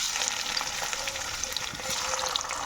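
Shrimp dropped into hot oil fries with a steady, dense sizzle and crackle, close and loud throughout, with no talk over it.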